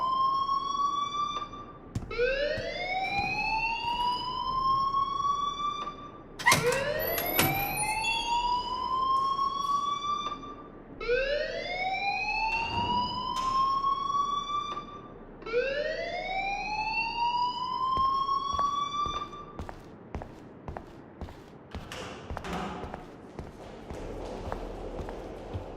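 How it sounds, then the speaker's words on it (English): A school alarm in the game Life is Strange sounds repeatedly: loud rising electronic whoops, about one every two to four seconds, cycling steadily for nearly half a minute with no talk over it. "please turn off that alarm since that's your job"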